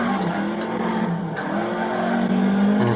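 A rally car in Dirt Rally races a German stage, engine howling loudly and steadily while tyres squeal and skid across the surface in long sustained bursts, with no voices.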